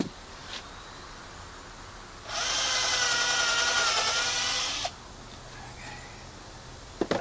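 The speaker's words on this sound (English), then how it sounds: "Pre-drill first, of course." A power drill runs in one steady burst of about two and a half seconds, pre-drilling wood for toenailing while a tractor shed is extended. It is fairly close and clear, with quiet pauses before and after.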